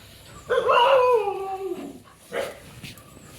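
Dogs outside a home give one drawn-out whining howl followed by a shorter yelp, close and fairly loud, with no talking.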